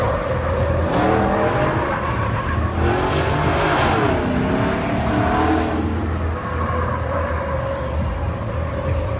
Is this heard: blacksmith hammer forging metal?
no